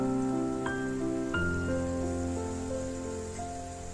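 Tomatoes sizzle steadily in a pan while a spice paste is readied to go in, a soft even crackle running throughout beneath prominent background music.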